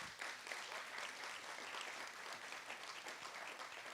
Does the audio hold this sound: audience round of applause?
yes